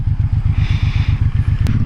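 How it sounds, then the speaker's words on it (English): A 2018 Suzuki Boulevard M109R B.O.S.S. motorcycle engine idles once warmed up, a steady rhythmic low thumping pulse with stock exhaust, close and alone with a brief click near the end. "now that the engine's warmed up a little bit, I don't know how well you guys can hear the motor"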